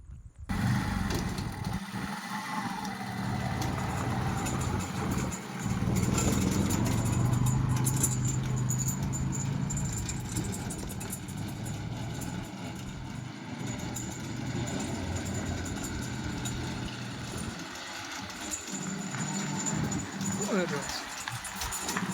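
A utility trolley vehicle with a 500 to 600 kg load capacity is driven around, its engine running in a steady loud drone for the whole stretch while people talk nearby.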